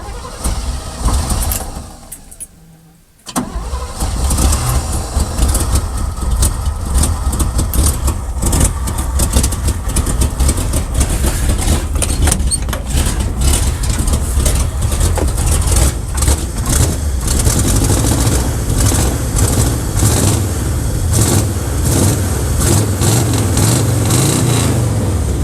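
An abandoned 1979 Chevrolet engine cranks and catches after a brief pause, then runs loud and rough with an uneven, stumbling misfire throughout, close up.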